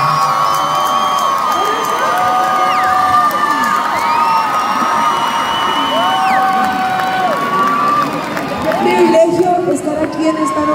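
Concert crowd in Bogotá cheers and shouts for a singer joining a band, with loud, sustained whoops and high voices and some clapping beneath, continuing for about ten seconds.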